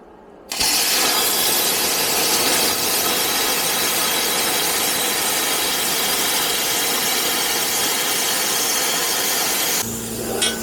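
A plasma cutter slices through thick steel plate in an outdoor yard during metalworking, giving a loud, steady, harsh hiss with a high squealing edge that runs unbroken for about nine seconds before cutting off.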